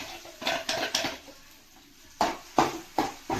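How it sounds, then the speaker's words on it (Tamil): Mustard seeds crackle and splutter in a hot pan during home cooking, a few sharp broadband pops in two clusters separated by a quieter gap, close and fairly loud with no talk. "கடுகு பொரியுதுங்க, சவுண்ட் கேட்குது"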